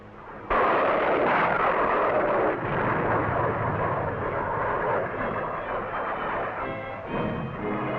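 Navy carrier aircraft from the U.S. Navy's 2nd Fleet in 1962 roar overhead in a loud, sustained engine drone that begins abruptly and stays strong throughout.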